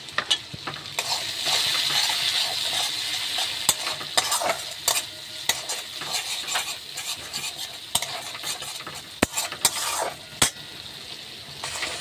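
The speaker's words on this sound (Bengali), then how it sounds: "হলুদটা দিয়ে একটু ভালো করে নাড়াচাড়া করে নিচ্ছি" Turmeric and spices fry in oil in a pan for a tel potol curry, a soft steady sizzle punctuated by frequent scraping and clinking from a stirring utensil, close and with no talking.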